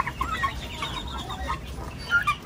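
Chickens and turkeys cluck in short, scattered bursts, soft to moderate and fairly close over a low background hum.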